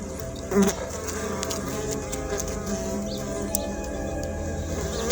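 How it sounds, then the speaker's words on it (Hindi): Bees stream out of a tree with a continuous low droning buzz, close and steady, with a brief louder rustle near the start. "देखो, अंदर से मधुमक्खियाँ आ रही हैं"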